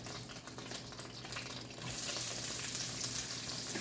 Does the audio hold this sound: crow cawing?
no